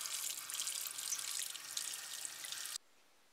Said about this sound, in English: You wanna cover it in some water and leave it soaking for about 15 minutes.